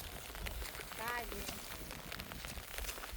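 Steady morning rain falls in a rural setting while rice seedlings are being pulled, a dense, even hiss of drops that runs throughout, with a faint voice and scattered nearby splashes in the background.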